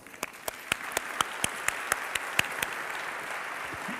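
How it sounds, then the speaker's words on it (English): Conference audience applauding after a speaker is introduced, a steady wash of many hands clapping with sharper individual claps standing out, fairly close and continuous for a few seconds. "Shall we give another applause?"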